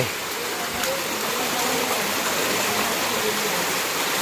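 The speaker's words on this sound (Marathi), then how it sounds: "नदी वाहते" Steady broadband rushing of a river running nearby after torrential rain fills the whole stretch, even and continuous.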